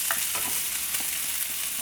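Green chilli, crushed garlic and ginger sautéing in a hot pan for a chicken liver pepper fry, with a continuous loud sizzle broken by scraping stirs and no voices.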